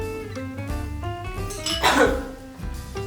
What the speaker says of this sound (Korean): 기침이 나오네.